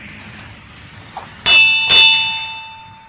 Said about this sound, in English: This used to be the school bell here.